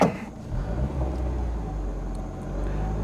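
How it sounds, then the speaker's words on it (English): A right-hand-drive Honda S2000, imported from Japan, idles with a steady low engine rumble that holds evenly and close. "It idles, so we got some idle out of it."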